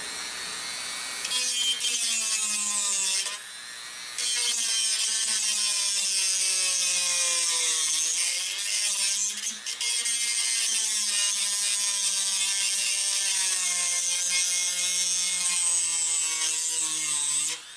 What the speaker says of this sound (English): I'm going to tighten these 4 bolts